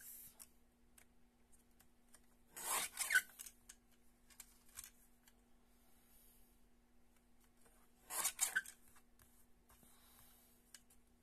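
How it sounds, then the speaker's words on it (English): A paper guillotine trimmer slices through card twice, each cut a short rasping swish several seconds apart, close and fairly quiet, with light handling rustles and a faint steady hum between. "let's trim this down a bit with my guillotine and see what we come up with"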